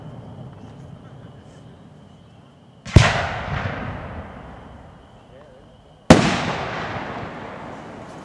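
Two gold palm tree 5-inch firework shells burst loudly, about three seconds apart, each a sharp bang followed by a long crackling, fading tail over a quiet background hum.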